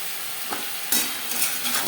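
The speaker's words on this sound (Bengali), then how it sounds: "কাঁচা গন্ধ যাওয়া পর্যন্ত নাড়াচাড়া করে নেব" Malabar spinach stalks with pumpkin, green chillies and ginger being stirred in a hot pan, a short burst of sizzling with a few quick spatula scrapes and clicks, close and without speech.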